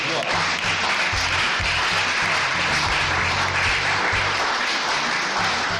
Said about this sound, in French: Acclamons d'abord notre Dieu